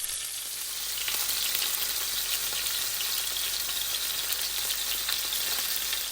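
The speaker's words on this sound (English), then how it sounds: "We're ready to add our fish. Without touching them, we'll cook for 3 minutes on this side" Fish fillets fry in a pan with a loud, steady sizzle, a dense, continuous crackle of hot oil that holds up close throughout with no voices.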